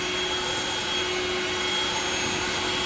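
An Echo DPB-5800T 58V battery backpack blower runs in normal mode, giving a steady, even whooshing hum with a faint motor whine, continuous and close with no speech.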